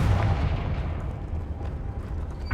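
The Confringo blasting spell from Hogwarts Legacy hits with a heavy, booming explosive rumble that lingers and slowly fades, loud and close.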